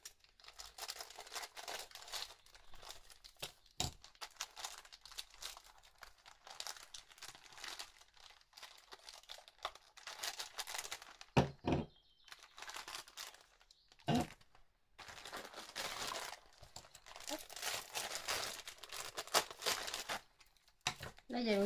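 Fragrance packages being opened, with repeated close crinkling and tearing of wrappers in bursts, and a few sharp handling clicks in between.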